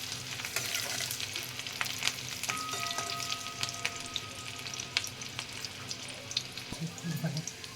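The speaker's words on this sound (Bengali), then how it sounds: "একটু ভাজা হয়ে যাবে রসুনটা।" Garlic sizzles and crackles steadily in hot oil with whole cumin seeds and green chili, a continuous close frying hiss broken by a few clinks of a stirring spoon.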